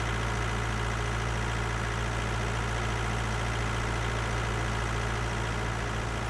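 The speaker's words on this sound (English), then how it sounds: "Yeah, it's really working well, this tractor." In Farming Simulator 19, a tractor's engine drones without a break, an even low-pitched hum with a faint mechanical buzz and no change in loudness.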